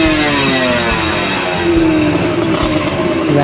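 Yamaha RXZ motorcycle with a custom-made exhaust revving loudly and steadily up close, its throaty mid-range engine note rising and falling without any talk.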